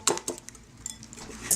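A fork whisks cake mixture for a ginger cake in a bowl, giving a few light clinks and scrapes against the bowl in irregular taps, close and fairly quiet.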